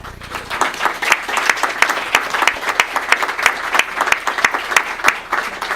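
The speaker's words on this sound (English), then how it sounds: "let's give them a round of applause." Audience applause for the performers after their closing musical selection at a remembrance and reconciliation gathering, a moderate crowd clapping steadily with distinct individual claps audible throughout.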